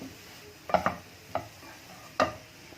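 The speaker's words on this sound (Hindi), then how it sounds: "ये देखें, ये अच्छी तरीके से फ्राई हो रहा है।" A sweet coconut mixture fries in a pan under quiet sizzling, with a few distinct scraping stirs of a spoon against the pan, close and sparse.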